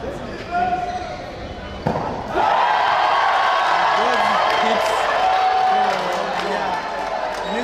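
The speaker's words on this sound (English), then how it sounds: "it sent the crowd in a frenzy" At a men's volleyball league playoff match, a crowd erupts into a loud, sustained frenzied roar of cheering after a sharp impact, continuing at full volume to the end while a commentator talks over it.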